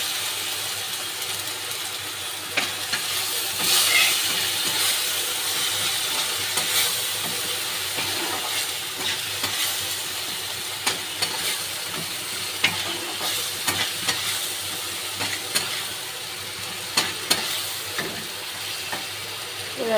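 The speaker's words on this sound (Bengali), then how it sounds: "আদা রসুনের পেস্টটা দিয়ে দেবো। দিয়ে হালকা একটু নেড়ে চেড়ে নেব।" Ginger garlic paste fries in a pan for an egg curry, with a constant hissing sizzle under irregular clicks and scrapes of stirring throughout.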